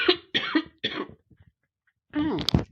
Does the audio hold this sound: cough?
yes